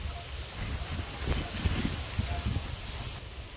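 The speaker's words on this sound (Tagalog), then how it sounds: "Ang lakas po ng hangin na inuugoy po yung mga puno" Strong wind gusting through swaying trees whose leaves are falling, a steady broadband rush with brief louder gusts, close and continuous throughout.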